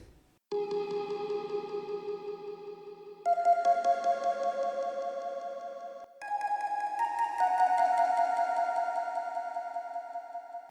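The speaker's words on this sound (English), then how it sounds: "I used a one-shot to create this simple melody" A simple synth melody of sustained, bright tones stepping between a few pitches in three phrases, clean and steady with no voices.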